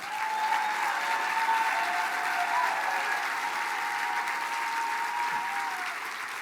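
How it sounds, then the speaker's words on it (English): Steady applause from a large audience at a tribal State of the Band address, a dense even wash of clapping that holds at the same level for about six seconds with no voices over it. "Round of applause."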